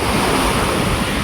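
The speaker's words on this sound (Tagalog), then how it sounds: "Malaki po yung tubig ngayon. At saka medyo mahangin po." Sea waves wash continuously against the shore while wind buffets the microphone in a steady, loud roar, with no voices.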